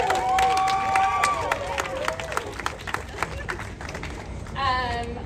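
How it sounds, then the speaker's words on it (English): A crowd at a Palestine rally in Boston claps and cheers, scattered applause mixed with voices and whistles, fading then swelling again near the end. "Can we get a round of applause for our"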